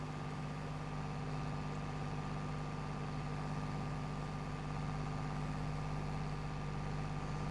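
Swaraj 855 tractor engine in Farming Simulator 22, a steady low droning hum that holds even and continuous throughout, with no talking.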